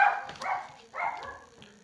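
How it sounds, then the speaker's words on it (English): Two short barks from a dog in the distance, faint and spaced about a second apart. "Sorry if you can hear the dogs in the background."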